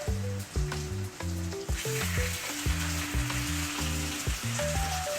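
Potatoes frying in a pan for fried potatoes and eggs, a loud close crackling sizzle that runs throughout with occasional brief spatter pops, no one speaking.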